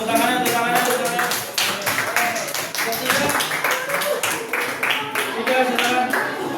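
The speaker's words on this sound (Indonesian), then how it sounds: "tepuk tangannya, tepuk tangannya, tepuk tangannya" A classroom of students claps together in a teaching-practice lesson, a steady run of sharp, close hand claps lasting several seconds, with a voice talking over the clapping.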